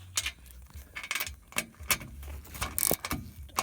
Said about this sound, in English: We then need to get my wrench to tighten that down.